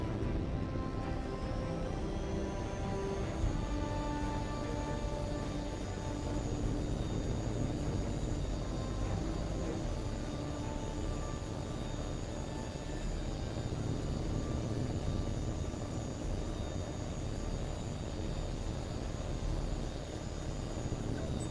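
Fighter jets in the H.A.W.X 2 video game roar steadily through takeoff, a loud, continuous engine drone with a high whine held throughout.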